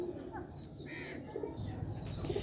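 Pigeons at a pigeon-keeping setup coo softly, with low murmuring calls and a brief flutter of wings, heard faintly and somewhat distant under quiet background noise.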